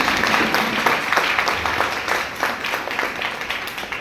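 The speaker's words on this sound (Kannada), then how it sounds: "ಅವ್ರಿಗೆ ಜೋರಾಗಿ ಚಪ್ಪಾಳೆ." An audience gives loud, sustained applause at a women's empowerment event in Kalaburagi, a dense wash of many hands clapping for about four seconds without pause.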